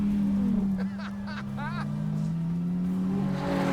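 A Dodge Viper ACR engine holds a loud, steady low drone that rises slightly as it accelerates, with faint voices over it.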